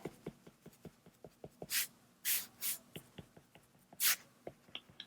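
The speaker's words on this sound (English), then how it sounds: "we can cross hatch with pencil" A pencil cross hatches on paper in quick, rhythmic short strokes, faint and close, broken by a few longer, louder scratching sweeps.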